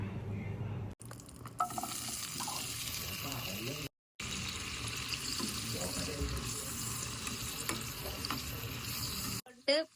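Tomato, garlic and dried red chilli sautéing in a pan for chutney, a steady close sizzle with stirring scrapes running throughout, briefly cut off near the start and middle, with no talk over it.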